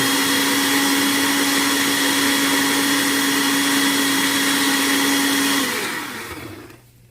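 A blender whirs loudly and steadily, blending beetroot into juice, a close high motor whine that holds for several seconds before spinning down and fading out.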